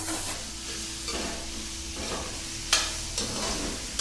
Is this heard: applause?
no